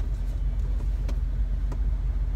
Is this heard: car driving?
yes